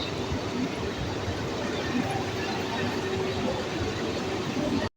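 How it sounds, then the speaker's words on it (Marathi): Near-empty local train running in the afternoon, a constant loud rumble and rattle that carries on without a break and cuts off abruptly at the end, no talk. "हे बघा, फुल रिकामी ट्रेन आहे."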